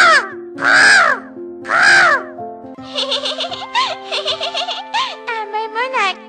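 A person imitates a crow, letting out two long, loud caws followed by a rapid run of shorter, choppy caw-like calls, close and clear with no other sound around them.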